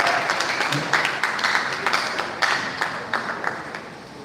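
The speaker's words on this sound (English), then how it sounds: "A round of applause for a round of applause." An audience at an inter-tertiary debate competition gives a round of applause: moderately loud, uneven clapping with scattered sharp claps and small bursts that rise and fall over a few seconds.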